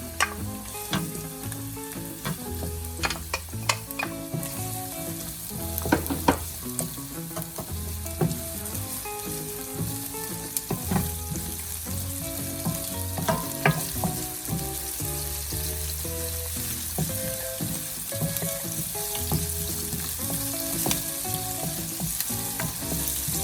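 Onion sautéing in leftover pork oil in a pan, a steady close sizzle with frequent clinks and scrapes of a spatula stirring throughout.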